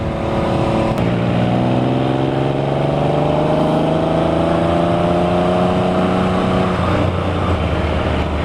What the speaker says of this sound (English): This is a Triumph Legend 900 TT.